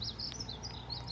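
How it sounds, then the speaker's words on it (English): Several birds chirp in quick, high repeated notes on a morning outdoors, fairly faint over a low steady background hum. "Do you hear the birds this morning?"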